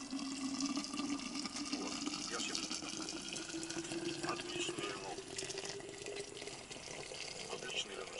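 Hot liquid pours steadily in a continuous trickling stream outdoors, with a faint tone rising as the container fills and quiet talk in the background.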